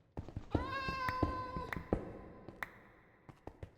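A cat in a video game meows once with a clear, drawn-out tonal call, followed by a few soft taps and thumps against a quiet background.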